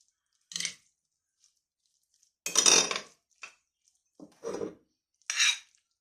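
Scattered scraping and clinking of utensils tossing salad with garlic in a bowl, four or five short bursts separated by silence, close and fairly loud.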